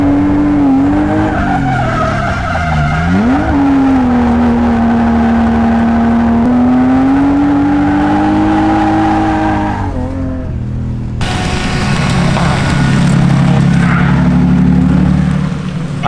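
A small BMW E30 project car drifts on a full road course, its engine holding a steady high drone with rising and falling pitch, then tires squeal and skid loudly near the end as the car slides.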